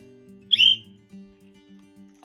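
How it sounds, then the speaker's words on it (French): One short, high whistle tweet rings out over a low steady hum, followed by quieter faint tones. "Arrête un peu avec ton sifflet."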